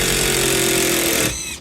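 A power drill drives a screw through exterior insulation board, a loud steady whirring grind that runs about a second and then winds down, with no talk.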